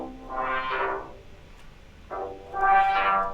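A reverb-soaked bass line panned to the left channel: two swelling, sustained tonal phrases with a gap between them, fairly loud and alone, with smeared tails from the reverb.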